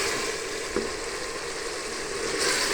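Beef and tomatoes frying in a pan for a beef aloo gobhi dish: a soft, continuous sizzle with faint stirring, close and steady throughout.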